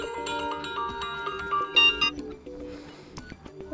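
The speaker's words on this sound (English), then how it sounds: "And here we have a list of ringtones. We can tap on one of them to listen to it." Default ringtone on an OPPO F15 smartphone plays a bright melodic chime pattern of layered electronic tones, steady and clear with no talking, shifting to a sparser phrase near the end.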